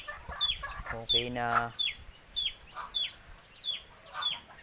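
Farm chickens cluck and chirp repeatedly in short bursts, with a brief spoken phrase near the start, close by in an outdoor setting at feeding time.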